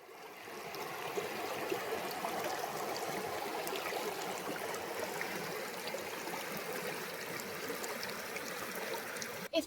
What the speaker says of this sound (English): Peyton and I are just out exploring the wild river at the back of the campground